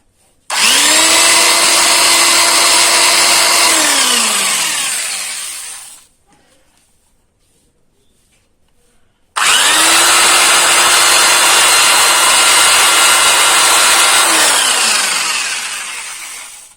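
A BUILDSKILL electric drill machine runs loud and close in two long bursts of steady high whine, each winding down at the end, with a few seconds of near silence between them.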